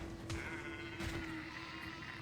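Sheep bleating in the video game Black Desert, a couple of short bleats heard clearly over a constant low droning background ambience.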